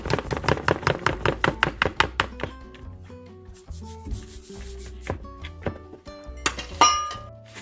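Dough for gluten-free pineapple tarts, made without wheat flour, is worked in a bowl, giving a quick run of rhythmic clinking and scraping strokes that give way to scattered knocks and rubbing, close and fairly loud with no talk.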